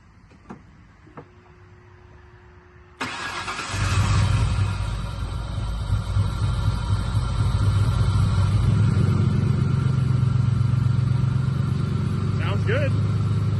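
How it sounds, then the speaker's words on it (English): Terminator Cobra with a freshly installed new engine cranks and fires after a few faint clicks, then settles into a loud, steady rumbling idle that carries on close by. "here's us starting the car again"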